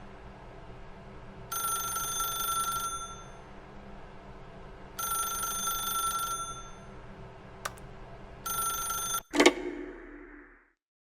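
A telephone in the video game The Stanley Parable rings in three long electronic bursts with pauses between, over a low steady hum, followed by a click as the receiver is picked up.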